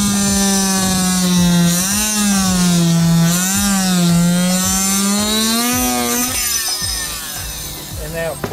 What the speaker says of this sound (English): orbital vibrating tools with a scraper blade on it